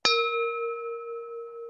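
A single bell is struck once, giving a sharp clear ding that rings out with a long sustained tone, loud and alone.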